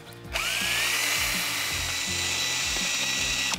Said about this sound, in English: I just got some wire brushes for the drill, and we'll just give it a go and see how tough it's going to be to get off